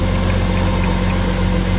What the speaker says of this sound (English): She fires right up.